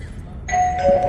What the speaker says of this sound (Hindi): तभी बेल सुनाई, डोरबेल।